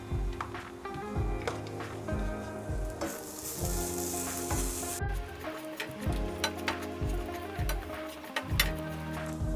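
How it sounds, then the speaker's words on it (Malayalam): Grated coconut frying in a pan for a beef curry, with a steady sizzle and occasional stirring scrapes, partly under continuous background music. "ഈ പാനിലേക്ക് തന്നെ കുറച്ച് തേങ്ങ നമുക്കൊന്ന് ഫ്രൈ ചെയ്തെടുക്കണം"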